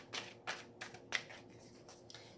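A tarot card is drawn from the deck and laid down: several soft, quick paper swipes and slides in an uneven rhythm, close but faint, with no voices.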